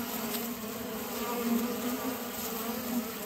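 Honey bees buzz inside an indoor hive, a dense, loud, continuous drone with no pauses throughout.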